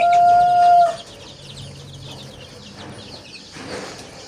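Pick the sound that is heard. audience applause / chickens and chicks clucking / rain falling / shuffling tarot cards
chickens and chicks clucking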